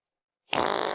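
A short, loud, rasping fart erupts abruptly after silence and continues steadily to the end.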